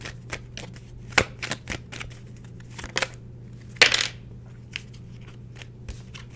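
Tarot cards being shuffled and drawn at a reading table: scattered soft slaps, flicks and snaps of card stock, a few sharper riffles standing out, over a low steady hum with no talking.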